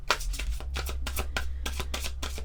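Oracle cards being shuffled by hand, a brisk run of about a dozen riffling flutters in quick, steady rhythm, close and fairly clear, with no talking.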